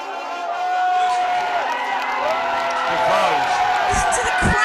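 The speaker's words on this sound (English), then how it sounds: "Listen to the crowd" Spectators lining a downhill mountain bike race at the 2009 UCI World Cup round in La Bresse cheer loudly and continuously, with whoops and rising shouts swelling throughout.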